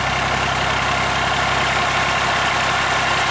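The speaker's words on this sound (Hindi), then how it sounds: "तो यहाँ पे ट्रैक्टर लगा हुआ है और शाफ्ट सिस्टम जोड़ दिया गया है।" A Massey Ferguson 240 tractor engine runs steadily at idle, driving a shaft-coupled tube well pump that delivers high-pressure water through a 6-inch pipe; a loud, continuous, unbroken drone with no talk.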